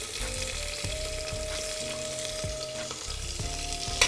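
Chopped onions, green chilies and curry leaves fry in a pan for vegetable masala khichdi, giving a constant close sizzle with a thin ringing tone and soft periodic thumps from the pan, with no talking.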